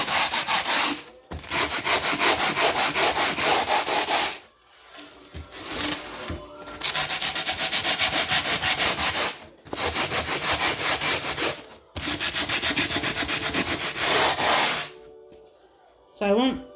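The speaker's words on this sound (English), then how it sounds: "So basically just sanding using another piece of foam." Foam sanding block rubbed along the edge of an Epiphone guitar neck, giving loud, close, broadband scraping strokes in long sustained passes broken by brief pauses, with no speech over the sanding.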